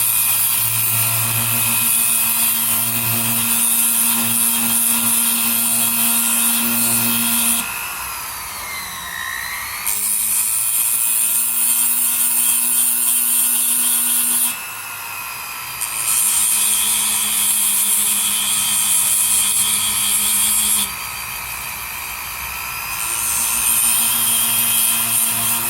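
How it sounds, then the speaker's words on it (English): A coarse sandpaper disc rounds and bevels the edge of a handmade bezel opening tool, giving a loud, continuous high grinding whine that dips briefly in pitch several times as the workpiece is pressed in, with no talk. "So this is my coarse sandpaper disc."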